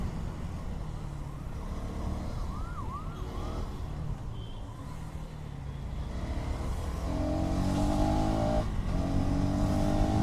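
A KTM Duke 250 Gen 3 motorcycle cruises on the road with a steady engine drone and wind rush, its tone rising and growing louder as the revs climb through the second half.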